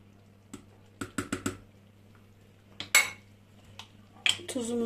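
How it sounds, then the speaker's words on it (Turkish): A spoon stirs Ezogelin soup in a pot, giving sharp metallic clinks and knocks against the pot in short bursts over a quiet background, with no clear speech. "Bir güzel karıştıralım arkadaşlar"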